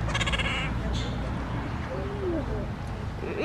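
Asian small-clawed otters making short rising squeaky quacking calls, several brief chirps in a row close by, over a background murmur of people in a zoo-like setting.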